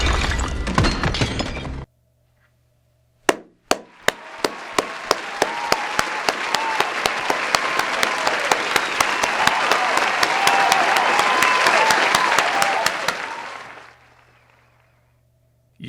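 After a short burst of sound and a pause, a large crowd breaks into loud, sustained applause and cheering that swells for about ten seconds before fading.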